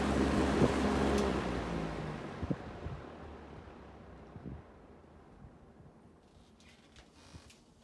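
A vintage Lasko Breezemaker box fan spins down, its whooshing hum starting loud and steadily fading toward quiet, with a few light ticks along the way.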